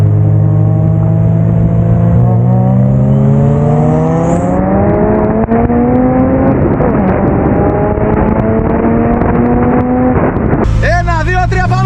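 Turbocharged Toyota Supra MK4 and Mazda RX7 street racing in Greece, loud engines revving with rising pitch through gears, close and roaring, ending in a sharp burst of noise near the end.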